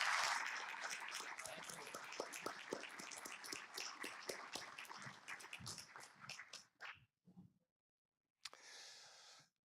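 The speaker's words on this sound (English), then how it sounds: "May we give our warm applause and thanks for his services to the football community." Audience applause at a football association congress: a steady wash of many hands clapping that thins into scattered claps and stops, followed by a brief rustle of movement.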